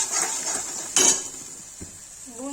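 Cauliflower with spices being roasted and stirred in a pan, with a steady hiss of frying and one loud metallic scrape or clank of a utensil against the pan near the middle.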